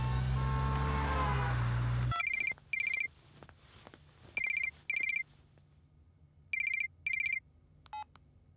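A telephone ringback tone purrs in short repeated double beeps at an even pace, clear and close, after a brief loud burst of sound at the start.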